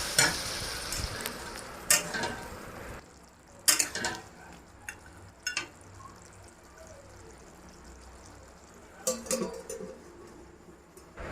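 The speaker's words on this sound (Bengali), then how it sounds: "মশলার সাথে মাংসটা ভালোটি করে নাড়াচাড়া করে নিতে হবে" Chicken pieces stirred through masala gravy in a frying pan for a kosha mangsho curry, with a steady sizzle and a few sharp scraping clatters of the spoon against the pan.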